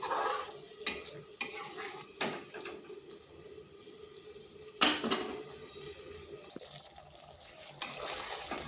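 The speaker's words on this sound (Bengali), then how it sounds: "এরপর এটা খুব ভালো করে কষিয়ে নিতে হবে।" A spice paste with yogurt is stirred and sautéed in a kadai for doi katla, a spoon scraping and knocking against the pan in sharp intermittent strokes over a soft, steady sizzle.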